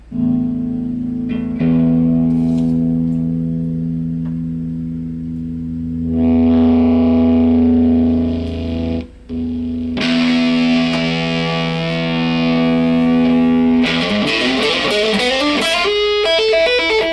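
A distorted electric guitar plays sustained chords through a Crate G60 amplifier, drenched in reverb and echo, loud and steady with no voices.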